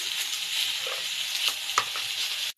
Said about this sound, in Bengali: এবার এই তেলের মধ্যে আমি কেটে রাখা সবজিগুলো দিয়ে দেবো